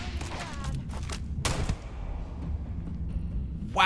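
Shotgun blasts in Starfield, a few heavy booming shots, the loudest about midway, over rumbling combat noise, with a bright burst of sound at the very end.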